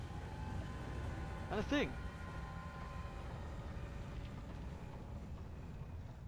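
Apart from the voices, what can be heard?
train in video game Alice Madness Returns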